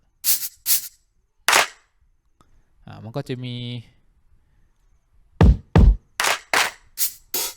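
Isolated punchy drum hits from a free Drums Pro hip-hop drum plugin ring out, a brief spoken phrase interrupts, then a quicker run of drum strikes follows.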